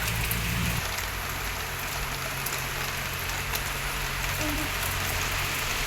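Rain pours steadily outdoors, a dense even patter that stays continuous throughout, with a low hum in the first second and no voices.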